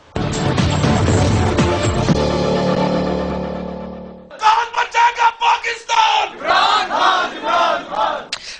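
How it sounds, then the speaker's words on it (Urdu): Large political crowd in Lahore chanting Imran Khan slogans: a dense roar of massed voices at first, then loud rhythmic call-and-response chant bursts in regular pulses. "عمران خان کے نعرے اس وقت لاہور میں لگ رہے ہیں"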